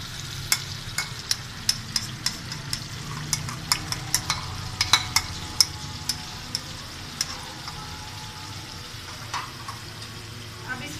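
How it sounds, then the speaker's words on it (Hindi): Tomato paste from three large blended tomatoes sizzles in a pan while cooking chicken karahi, a steady low fry under repeated sharp clinks of a spoon stirring against the pan, fairly quiet. "उनका पेस्ट जो है वो इसमें डाल दूँगी।"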